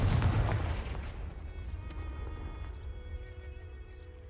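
A Confringo fire-blast spell goes off in the Hogwarts Legacy video game: a loud, close explosive boom bursts at the start, then fades into a long, low rumbling tail with a faint ringing hum.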